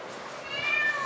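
A single cat lets out a short, rising meow, close and clear, with no speech over it.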